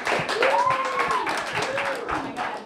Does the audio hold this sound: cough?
no